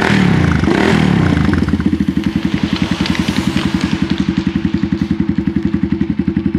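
A scooter engine starts with a rough scraping, clattering crank, then settles into a loud, rapid, even putter at idle close by.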